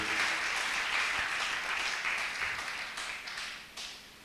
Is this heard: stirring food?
no